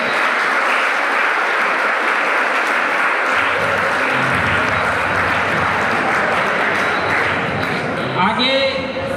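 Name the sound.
loud applause welcoming Shri Dinesh Kapoor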